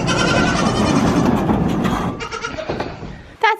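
Dairy goats in a barn on a cold morning, bleating loudly up close in a long, wavering cry, followed by scattered shorter calls and another sharp bleat at the end.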